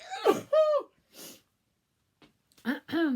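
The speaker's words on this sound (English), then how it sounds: "Sneezing." A single sharp sneeze bursts out close to the mic, followed by short breathy gasps and a voice talking nearby.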